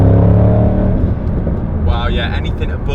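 A 2011 Ford Shelby GT500 pulls hard with its engine roaring loud and close, then a sharp, high tyre squeal rises as the rear wheels spin; voices are heard over it.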